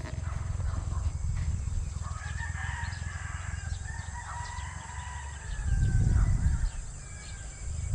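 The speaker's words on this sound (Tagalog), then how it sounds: "Naglalambing yung uwak oh." A crow calls on a farm during a crop harvest, with several drawn-out, moderately faint cries over steady outdoor background noise. A low rumble swells near the end.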